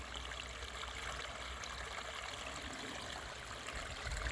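A small stream flowing over little weirs into pools and riffles, a soft, continuous trickling wash of water heard close and fairly faint, steady throughout with no voices.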